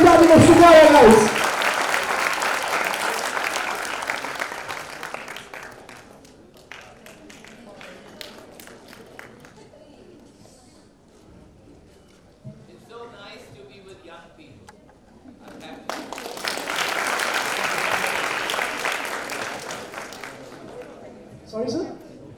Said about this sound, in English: Let's have a round of applause for the Starcast of Shikara, guys